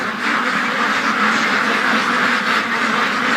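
A group of young free-range ducks quacks continuously and loudly up close, a dense overlapping chorus of calls with no pauses.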